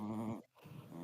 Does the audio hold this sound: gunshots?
no